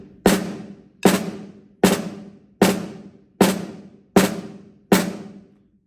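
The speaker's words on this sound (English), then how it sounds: "Sometimes we might put the primary note before the grace note." Drum flams with the primary note struck before the grace note, seven evenly spaced doubled hits ringing out close and alone, each decaying before the next.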